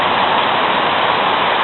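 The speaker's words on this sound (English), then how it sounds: "Here's where the creek flows." A creek flowing below Kamaniskeg Waterfall in autumn bush gives a steady, loud broadband rush of water, continuous and close, with no voices.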